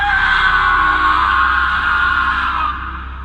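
A man screams in horror, a long loud sustained cry with a harsh, strained tone that fades slightly toward the end, alone with no other sounds.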